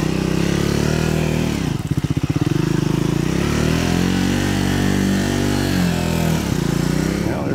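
A 2024 Triumph Scrambler 400X motorcycle engine labouring off-road uphill with traction control off, a loud, continuous close-up drone with uneven revving and a brief dip, while a rider talks over it.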